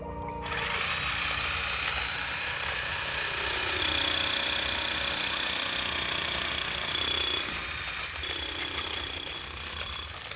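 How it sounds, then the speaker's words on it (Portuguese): A high-pitched whine of a power drill running continuously at close range, drilling into a wall, with brief changes in pitch and a short pause near the end. "Prepara a furadeira."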